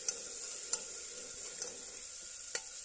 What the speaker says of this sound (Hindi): ये टमाटर अदरक और मिर्च को मैंने इसे कट कर लिया है, और मैं यहाँ इसको भून रही हूँ